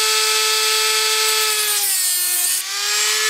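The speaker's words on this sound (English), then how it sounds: "I'll take my little Dremel cutoff tool" A small Dremel cutoff wheel cuts through a banjo fret, giving a loud, steady high-pitched whine that sags briefly in pitch under load near the end, alone without speech.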